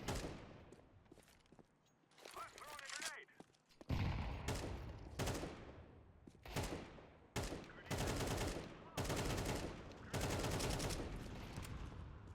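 Rapid bursts of Counter-Strike 2 gunfire crackle in short volleys with brief pauses between them, loud and close, with no voices.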